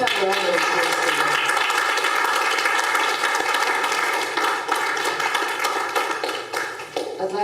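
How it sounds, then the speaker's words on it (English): Symposium audience at a human rights and law event applauding steadily, a dense even patter of many hands that holds at full strength throughout and eases slightly near the end. "Can we have a round of applause?"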